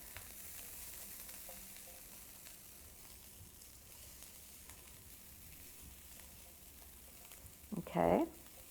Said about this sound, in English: we're going to stir these until they're all well coated